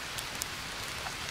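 Rain falls in the jungle survival game Green Hell, a soft, faint wash of patter with a few scattered drop ticks over a short stretch and no speech.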